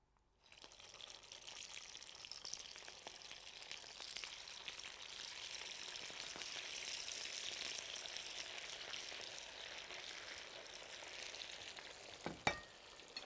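Portuguese codfish cakes frying in hot oil, a steady close bubbling sizzle that holds for the whole stretch with one brief louder clack near the end, with no voices.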